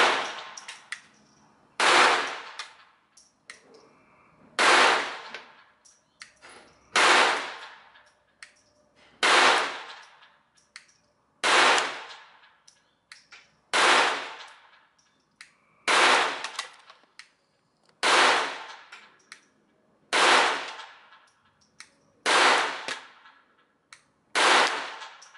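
Twelve sharp, loud gunshots from a new Taurus TX22 Compact .22 pistol, fired one at a time at a steady pace of roughly two seconds, each with a short ringing decay and no talk between.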